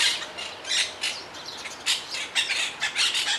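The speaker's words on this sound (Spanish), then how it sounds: "Ahí hay varios pájaros de diferentes razas." Several birds of different kinds call and chirp in a city park, Parque Doramas in Las Palmas de Gran Canaria, with repeated bright squawks and tweets in irregular bursts, fairly close and without talk.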